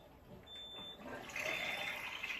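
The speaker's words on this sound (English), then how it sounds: "turn on your faucet, and collect the beauty water out of the top hose" Water runs from a faucet, a soft hissing flow that starts faint and grows stronger and brighter, with a thin high tone alongside, fairly quiet overall.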